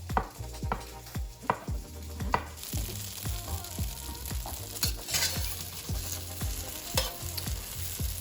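Tofu fries in a wok until golden brown, a soft sizzle under repeated sharp scraping and clacking stirs that come in an irregular rhythm, fairly quiet and close.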